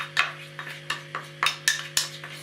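Ground chickpeas, sugar, almonds and cashews being mixed for laddu in a bowl, about ten quick clinking scrapes of a spoon against the bowl in a loose rhythm over a low steady hum, close, no talking.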